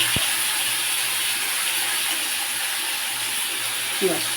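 Water coming to a boil in a pot on a gas stove, a steady broad hiss and bubbling rush that holds evenly, with a faint clink near the end.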